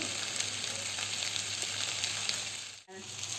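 Green jackfruit curry fries steadily in a pan, a dense, even sizzle that holds close and loud, then cuts out abruptly near the end before resuming.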